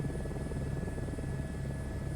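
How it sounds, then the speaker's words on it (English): Helicopter engine and rotor in a flight simulator game, a steady low droning hum that stays constant and moderately loud throughout, with no voices. "And I'm trying to stable this helicopter."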